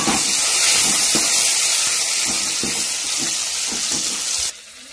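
Curry leaves and coriander hitting a hot pan with garlic, a loud continuous hissing sizzle up close with faint crackles, cutting off abruptly near the end.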